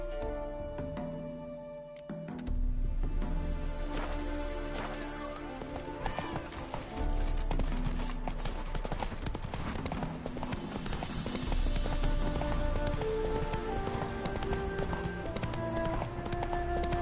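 The horse Roach in The Witcher 3 video game gallops with fast, steady clip-clop hoofbeats and occasional snorting, loud and continuous over game ambience and music.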